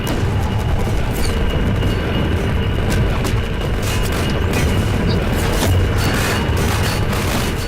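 Enemy gunfire aimed at the player in Half-Life 2 rattles through a loud, dense, booming din, with sharp shot-like cracks scattered over a constant heavy rumble.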